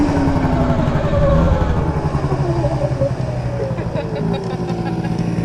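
A Sur Ron electric dirt bike and an electric scooter drag racing side by side, motor whine rising in pitch alongside road and wind noise, with people talking over the run.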